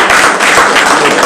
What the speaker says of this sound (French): Ça mérite des applaudissements.